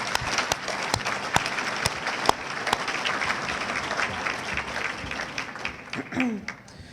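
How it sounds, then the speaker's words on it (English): An audience applauds at an evening community gala event, sustained clapping from a full room that holds steady for several seconds before thinning out near the end. "They really deserve a round of applause."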